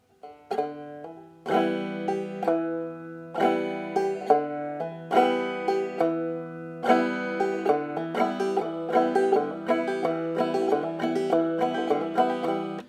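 Clawhammer banjo strokes alternating with the closed 4th string fretted by a finger, repeating in a steady bouncing rhythm of bright plucked attacks that ring and decay, played alone and close.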